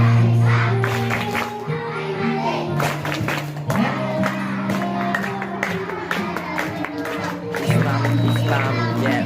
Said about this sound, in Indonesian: Tepuk tangan pada Mbak Arifah.